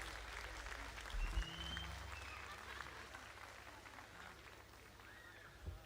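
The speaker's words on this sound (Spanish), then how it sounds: "Fuerte ese aplauso." Audience applause at a nighttime festival, a steady wash of clapping from a crowd at moderate level with brief low thumps, continuing for several seconds without a clear break.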